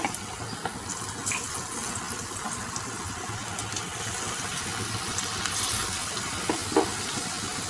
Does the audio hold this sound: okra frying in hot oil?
yes